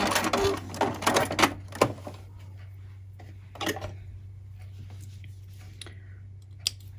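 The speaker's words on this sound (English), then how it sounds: "Stitch right over the hair tie. Give a little back stitch before you get off the edge" A sewing machine runs a scrunchie seam straight over an elastic hair tie with a small backstitch: a brief burst of rapid mechanical stitching, then near-quiet over a steady low hum.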